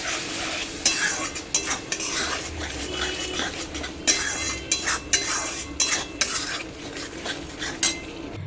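Spice paste stir-fried in a pan with added water for a Bengali fish curry, giving a steady close sizzle broken by repeated scraping and clinks of a metal spoon against the pan, with no talk.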